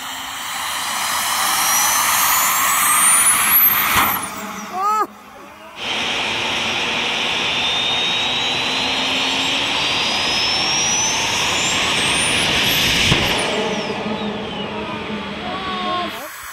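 Homemade turbo jet engine fed by a burn barrel, screaming loudly up to a rising whine, cutting out briefly, then roaring again and spooling up high, with voices in the background.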